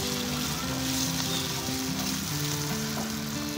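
Beef meatballs with softened onion frying in barbecue sauce and being stirred, a steady, even sizzle heard up close without pauses and with no talking.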